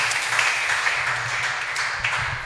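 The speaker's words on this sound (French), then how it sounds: "Let's clap for the Lord." Church congregation clapping together, a brief dense burst of many hands with a low hum of voices underneath.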